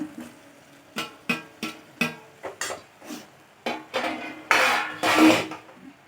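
Fried cauliflower, potato and capsicum tipped into a pan and stirred, giving a series of close clattering scrapes and knocks at an uneven rhythm, ending in longer louder sweeping stirs with a faint sizzle.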